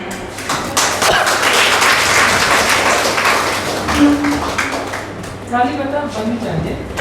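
An audience at a women's college award ceremony in Pratapgarh keeps up dense, sustained applause, with a mass of close, overlapping claps that trails off as an amplified voice takes over.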